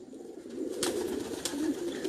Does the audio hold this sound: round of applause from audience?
no